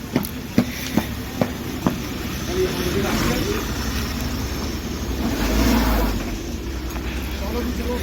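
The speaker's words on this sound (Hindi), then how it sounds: "तो गाड़ी अब बैक करी जा रही है" A car reversing in heavy snow, its engine droning steadily under voices, with a few sharp knocks early on and the engine swelling louder toward the end as the wheels strain.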